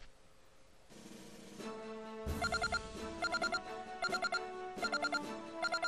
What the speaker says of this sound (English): That's a terrible ringtone.